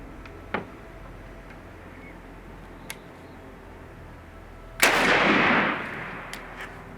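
A shotgun fires a single 3.5-inch turkey load of 9-shot outdoors: one sharp, loud blast that rolls into a brief rumbling echo, preceded by a few faint clicks and ticks.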